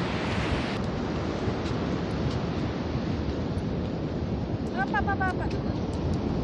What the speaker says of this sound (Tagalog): ang grabe ng alon